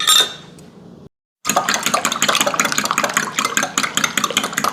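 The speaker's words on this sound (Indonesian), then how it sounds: "Sekarang ini telur dan air dicampur jadi satu dan dikocok." Eggs and water being whisked together in a bowl, a rapid steady clinking and tapping of the whisk against the bowl, close and continuous after a brief pause.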